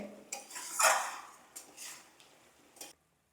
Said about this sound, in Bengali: এভাবে ঘুরিয়ে ঘুরিয়ে নাড়ব একদম শুকনো করে ফেলার চেষ্টা করবো এটাকে